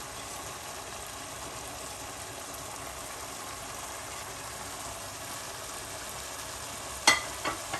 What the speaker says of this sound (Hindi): इसको मिक्स कर लेते हैं और गोश्त को अच्छी तरह भून लेते हैं।